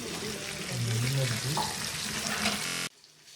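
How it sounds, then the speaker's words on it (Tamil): Oil sizzles and crackles steadily as fish fries, then the sound cuts off abruptly near the end. "அது வரைக்கும் மீன் பொரிப்போம்"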